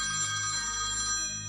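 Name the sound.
phone ringing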